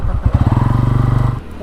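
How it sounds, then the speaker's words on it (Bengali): A modified superbike engine revs close by in a strong, rapid pulsing throb for over a second before it cuts off, with no talk over it. "সাউন্ড শুনে বলেছে এটা সুপার বাইকের আওয়াজ পাচ্ছে।"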